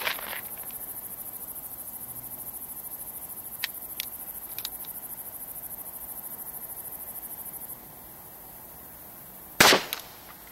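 A gunshot striking a pop can, heard as a single sharp loud crack near the end against steady outdoor insect buzz, with a few faint ticks earlier.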